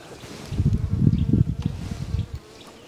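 A low, droning buzz of honey bees swelling in the middle and fading toward the end, close by and with no voices.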